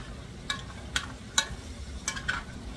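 Sofrito and home fries stirred in a pan, a faint background sizzle broken by five sharp spatula scrapes and taps at an irregular rhythm, with no talking.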